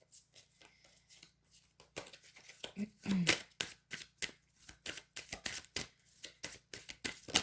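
Tarot-style cards are shuffled in a series of rapid, close papery riffles and flicks that grow busier toward the end, with soft speech at times.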